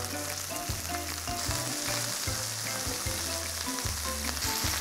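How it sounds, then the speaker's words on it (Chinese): A thick cut of thawed US ribeye beef sears in hot oil in a pan, giving a loud, steady sizzle and crackle with no talking over it. "每一面都是大概煎一分钟左右就可以了哦。"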